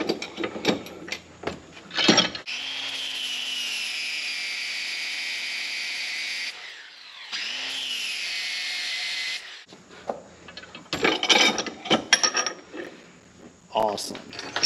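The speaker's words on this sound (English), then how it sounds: "I'm going to go ahead and grind that down." An angle grinder whines steadily, grinding down a metal part on a compact tractor hitch. Two long, close, continuous passes are separated by a brief pause, with clanks and handling noises before and after.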